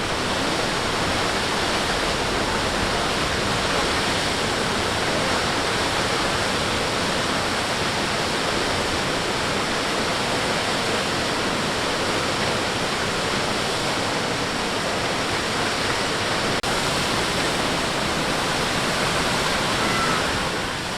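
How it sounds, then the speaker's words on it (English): Steady, loud rush of a waterfall with only a thin flow of water spilling over rocks at Cloudland Canyon, a continuous broadband roar with no breaks and no voices. "And here's the waterfall. I'm really shocked how little water is going over the rocks."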